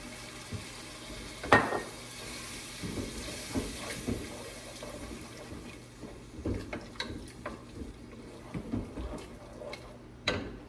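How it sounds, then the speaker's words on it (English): Wine poured into a hot pan for a shrimp dish sizzles and hisses quietly, with scattered clinks and stirring knocks over a low continuous fry. "So I'm gonna add some wine, maybe about half a cup for now."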